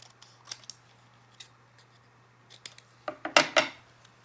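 Scissors snip paper while cutting out a tulip shape, a few faint isolated clicks followed by a closer cluster of crisp cuts near the end, over a low steady hum in a quiet room.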